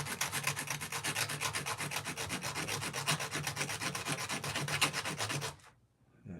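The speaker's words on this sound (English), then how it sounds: "Just continue to sand that area, smooth it out, round it up a little bit." Sandpaper steadily rubbing a metal ring to smooth and round its edge: rapid, even back-and-forth scratching strokes, close and continuous for about five seconds before stopping abruptly.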